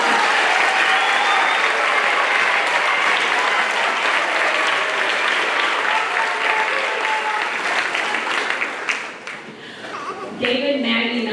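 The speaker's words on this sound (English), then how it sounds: "Let's give them a round of applause." Audience applause at a fifth-grade school band spring concert, a steady, loud wave of clapping from a crowd that fades near the end before a voice briefly speaks.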